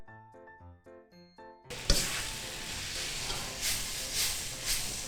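Yaki udon noodles stir-fried with sauce in a pan, tossed with sesame oil and spring onions; after a brief musical intro a loud, steady sizzle takes over, with a few clattering stirs and bursts of hiss close by.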